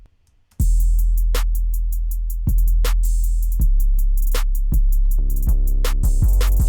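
Clean, deep 808 bass booms land with kick hits in a steady beat over ticking hi-hats, smooth and undistorted, loud and close.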